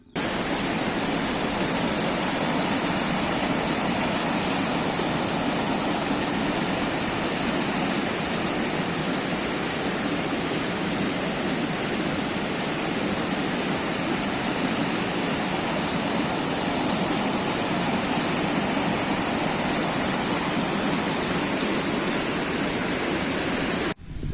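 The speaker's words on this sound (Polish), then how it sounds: "dojdziecie do wodospadu. Zobaczcie." A waterfall in a Polish park near a water dam roars with a steady, dense, unbroken rush of falling water, loud and close, holding constant throughout with no voices.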